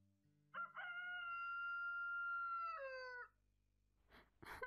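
Rooster crowing at dawn, one long clear cock-a-doodle-doo rising and holding before dropping off, close and prominent, followed by a few short faint rustling bursts.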